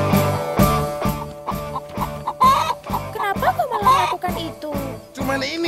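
Rhythmic clucking from chickens, steady and fairly close, mixed with tinkling and other busy sounds.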